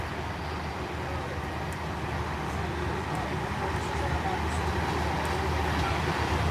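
Amtrak passenger Train 43, the Pennsylvania, runs at about 105 miles an hour, giving a steady, loud interior rumble and rail roar with faint clicks of wheels over track joints and no break in the noise.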